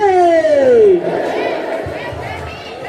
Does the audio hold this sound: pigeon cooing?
no